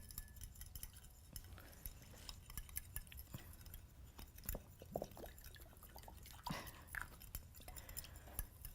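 Salad ingredients being mixed together in a bowl, with soft wet clicks, taps and drips of utensils working through the leaves, quiet and irregular over several seconds.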